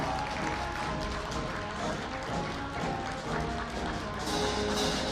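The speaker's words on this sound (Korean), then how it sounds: "졸업생들이 이제 고대 교우로 거듭나는 것을 큰 박수로 환영해 주시기 바랍니다." A graduation ceremony audience at Korea University applauds its graduates with a continuous wash of clapping from a large hall, steady in level throughout.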